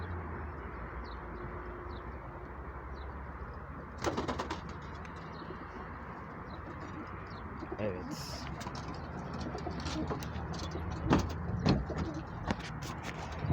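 Soft pigeon cooing mixes with steady outdoor background noise, with a few brief rustles and knocks scattered throughout.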